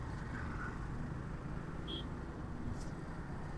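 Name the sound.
road traffic in a Dhaka traffic jam, heard from a motorbike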